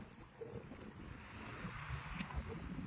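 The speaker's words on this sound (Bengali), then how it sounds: "এই যে পূবের হাওয়া শুরু হয়েছে, থেকে থেকে বৃষ্টি" East wind blows over the sea around a fishing boat out for hilsa, a soft steady rush with low rumbling buffets and faint water movement, fairly quiet and without voices.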